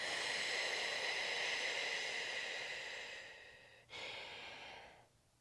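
Deep, steady breathing during a third-trimester pregnancy yoga session for pelvic floor birth prep, a long continuous airy exhale that fades, a brief pause, then another breath trailing off, close and alone without talk.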